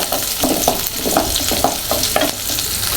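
Small shallots and garlic roast in a pan for a brinjal gravy, a constant loud sizzle broken by a regular rhythm of spatula scrapes and stirs, with no talking.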